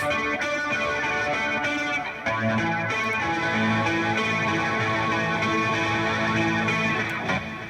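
Heavily distorted electric guitar plays a dense, sustained chord riff, loud and steady with no voices.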